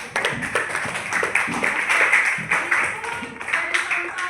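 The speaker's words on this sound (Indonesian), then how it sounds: "tepuk tangan, Nak." Children in a classroom clapping together, a dense patter of hand claps that rises and thins over a few seconds, fairly close, with some voices mixed in.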